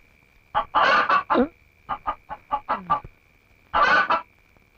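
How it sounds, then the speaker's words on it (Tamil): Chicken clucking close by in short rhythmic bursts, a loud run of squawky calls, a pause, then a few more clucks, with no voices. "கோழி."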